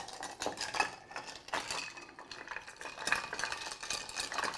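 Spoon stirring an Athol Brose cocktail in a mixing glass, continuous close clinking and swirling with ice rattling against the glass in an uneven rhythm.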